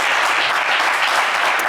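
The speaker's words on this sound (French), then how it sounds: "des applaudissements du public" Studio audience applauding on a French game show, a steady dense wash of clapping that holds at full level for under two seconds, with no voices over it.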